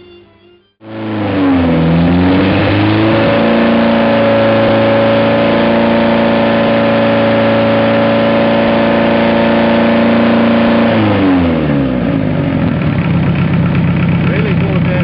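A Mazda 323 diesel engine, which blows oil, fires up from a cold start in chilly weather, then revs and holds a steady loud idle before the pitch drops and the engine settles, with no talk over it.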